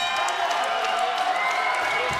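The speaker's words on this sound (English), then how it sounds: "This crowd really appreciating this fight." Arena crowd at a bloody MMA fight roaring and applauding between rounds, a steady dense wash of cheering and clapping that holds loud throughout.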